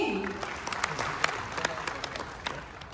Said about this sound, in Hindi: इसी बात पे ठोको ताली